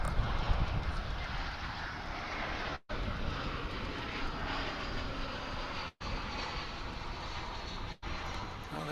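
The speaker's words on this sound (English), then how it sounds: "there's a plane going through the picture" An American Airlines jet flies past at DFW Airport, its engines giving a loud, steady broadband roar that holds throughout with no talking.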